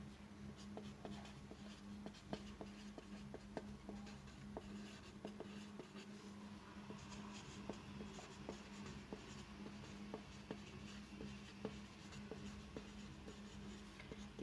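A pen writing out a math statement by hand, rapid scratchy strokes and taps in a steady uneven rhythm, close and fairly quiet over a constant low hum, with no talking.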